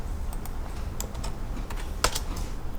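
Keys clack on a computer keyboard in an architectural drafting session, scattered taps and a couple of sharper presses, close and moderately loud over a low background rumble.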